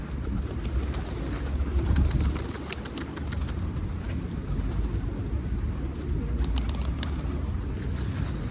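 A flock of wild pigeons arrives with bursts of wing flutter and faint cooing, steady low rumble of a motor in the background, no voices.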